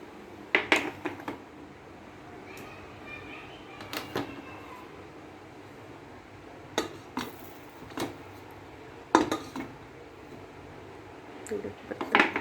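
Metal clinks and knocks repeat at scattered intervals as a tin of eggless honey cake batter is placed inside a heated cooker and handled, close and fairly quiet, without talk.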